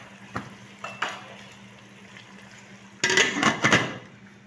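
A lid clanks onto a cooking pot of peas with tomatoes and capsicum, a few light metallic taps early on, then a louder clattering rattle as it settles in place, alone without talk.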